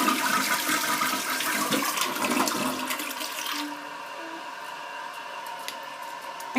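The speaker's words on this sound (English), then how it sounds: "the flushing mechanism in this particular toilet and the performance per flush" Delta Corrente toilet flushing, a loud rushing surge of water that drains away into a quieter gurgling refill.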